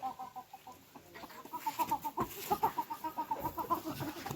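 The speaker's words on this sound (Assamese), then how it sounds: "আজি কুকুৰা এটাকে ধৰোঁ" A chicken clucks repeatedly and agitatedly while it is being caught, the calls coming in quick, uneven bursts that grow louder and busier toward the end, close by with no speech.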